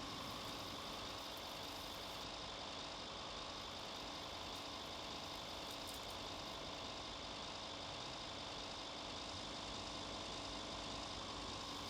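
A dense, constant engine rumble mixed with gritty crunching noise, a heavy truck in the video game RoadCraft rolling steadily over a gravel path, unchanging throughout.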